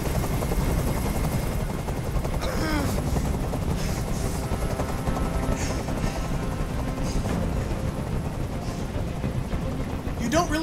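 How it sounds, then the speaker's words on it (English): Steady loud rotor drone of a hovering helicopter in the video game Detroit: Become Human fills the whole stretch, with voices and occasional distant gunfire sounds mixed over it. "Tell that helicopter to get out of here."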